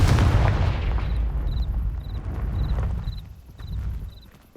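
An explosion cast with the Confringo blasting spell in Hogwarts Legacy, a heavy booming blast that rumbles and slowly fades, with faint high chiming tones repeating over the decaying tail.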